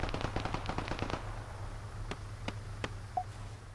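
Machine gun fire in the Arma 3 video game: a rapid burst of about ten shots in quick succession, followed by three more spaced single shots, fairly loud over steady background hum.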